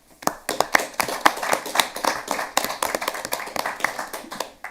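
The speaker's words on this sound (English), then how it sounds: "give them a round of applause for their work" Sparse applause at a township board of trustees meeting, a small group clapping unevenly with distinct individual hand claps, moderately close, lasting a few seconds with no speech.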